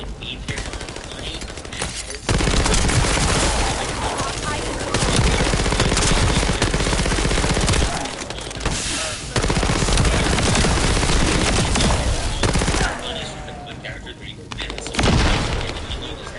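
Heavy gunfire against a boss in The First Descendant, with loud sustained automatic bursts and booming impacts in long dense stretches, briefly easing between volleys, while a voice talks over the shooting.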